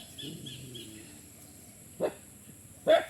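Two dogs outdoors, two short barks heard some distance away over a quiet background, one at about two seconds and a louder one near the end.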